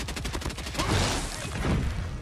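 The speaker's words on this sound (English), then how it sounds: "it's very difficult to control this recoil for the Maddox" Rapid bursts of Maddox rifle fire in the shooter game COD Mobile, a close, dense fusillade of shots running continuously with heavy low-end thump.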